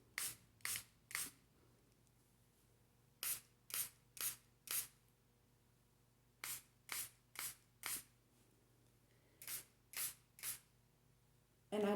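A hand-pumped cleansing spray bottle mists the air in short sharp bursts, grouped in threes and fours with pauses between, close and crisp in a quiet room.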